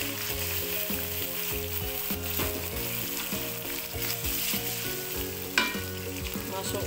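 Goat liver with spices sizzles in a pan after water is poured in, a steady, dense frying hiss running throughout beneath a melodic background music track.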